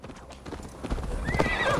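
A horse gallops in Assassin's Creed Valhalla, a quick run of close hoofbeats that builds in loudness, with a short whinny near the end.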